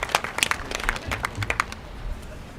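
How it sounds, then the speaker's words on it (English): An audience gives Minister Vandal a round of applause at an announcement event, a brisk, fairly close patter of many hands clapping that fades toward the end. "let's give another round of applause for Minister Vandal"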